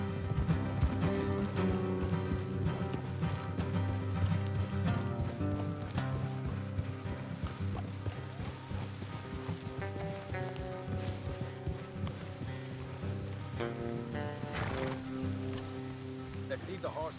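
Horses trot along a road in a video game, their clip-clop hooves a steady rhythmic patter set beneath prominent background music, with some voice activity mixed in.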